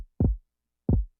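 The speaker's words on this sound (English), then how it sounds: "Then I found a nice thumpy kick sound from the KN Beats Essentials kit." Two thumpy kick drum hits from the KN Beats Essentials kit, spaced about two-thirds of a second apart, each a loud, deep, short boom that decays quickly into silence.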